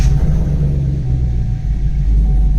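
A swapped V8 in a Colorado with transmission trouble bogs out as the gas is pressed in reverse, a loud, steady low rumble that holds without revving up.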